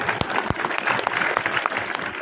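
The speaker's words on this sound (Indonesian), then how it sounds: "Tepuk tangan untuk Al-Inayah." Applause from the audience at an Islamic boarding school graduation and large religious gathering, a steady wash of clapping with sharper individual claps standing out throughout.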